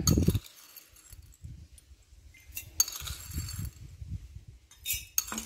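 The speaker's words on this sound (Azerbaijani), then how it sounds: "Ardınca hər balona 1 e, xörək qaşığı noxud əlavə edirəm" Dry chickpeas spooned into a glass jar for homemade apple vinegar, giving a few sharp clinks and rattles of hard peas hitting glass in short bursts, with quiet handling noise between.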